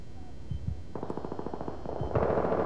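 Rapid automatic gunfire in a Counter-Strike style shooter, a short sparse pop followed by a fast rhythmic burst that swells louder near the end, sharp and moderately close.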